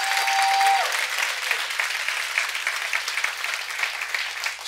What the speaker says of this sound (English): Give God a better hand clap than that.